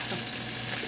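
Blended South Indian rasam ingredients sizzle and fry in a hot pan, a loud, close, continuous crackling hiss throughout the short moment.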